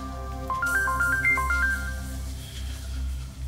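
A phone plays a melodic ringtone, a quick run of bright rising and falling electronic notes. It is clear and close, then fades into a low background hum with no talking.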